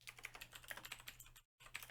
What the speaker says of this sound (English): I like how I can't type and not narrate what I'm typing.